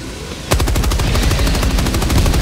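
Rapid machine gun fire in Helldivers 2 erupts after a short quiet moment and keeps hammering in a steady, loud, close burst of rounds until the end.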